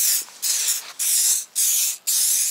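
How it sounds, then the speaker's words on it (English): Close aerosol spray hisses in four sustained bursts separated by brief pauses, loud and steady, sprayed onto an aluminum trailer door. "spraying it down"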